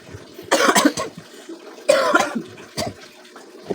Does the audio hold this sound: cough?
yes